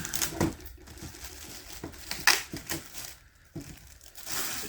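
Packaging around a Hot Toys throne accessory for the Mandarin figure is cut and pulled open, giving close crinkling, tearing and crushing noises in irregular bursts with short pauses, no talking.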